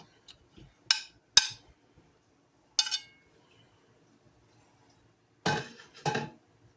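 Pots and pans clinking during cooking of a Rotel queso blanco dip with sausage, with a few sharp metallic knocks and rattles close by, spaced apart with quiet gaps between them, and no voices.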